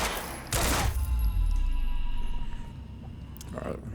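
Pistol gunfire in the Quantum Break video game: two short, loud bursts of shots, one early and one near the end, with a quieter hum of game ambience between them.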